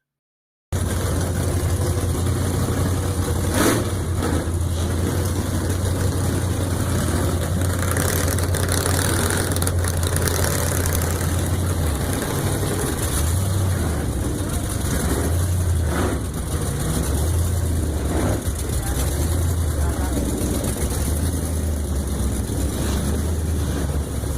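A 1941 Willys car with a twin supercharger engine runs at a cruise night, idling with a deep steady rumble and a few throttle blips, close and loud for over twenty seconds, almost no talk.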